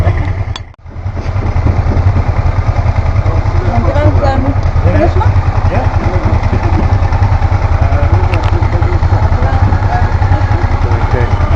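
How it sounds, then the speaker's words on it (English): A motorcycle engine runs steadily and loudly close by, with a fast pulsing throb and some mechanical clatter. A voice talks under it for part of the time. "We have the engine going"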